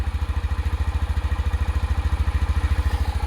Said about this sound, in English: we'll listen to it idle for a brief minute. It's got the original exhaust on it,